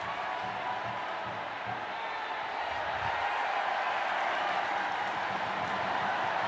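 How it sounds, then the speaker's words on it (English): A steady, dense roar from a stadium crowd at the 2022 AFF Women's Championship football final between the Philippines and Thailand, a continuous wash of massed voices with no single sound standing out. "Crowd enjoying themselves,"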